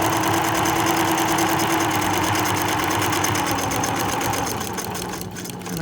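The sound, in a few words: sewing machine stitching a t-shirt dress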